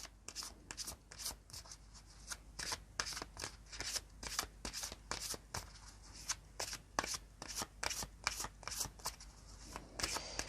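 Tarot cards being handled and shuffled close up, a rapid run of crisp riffling flicks and soft papery slides repeating unevenly throughout, quiet, with no voices.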